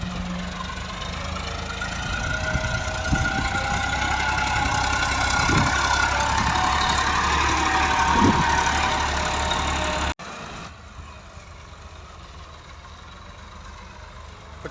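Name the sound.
Massey Ferguson 260 tractor engine idling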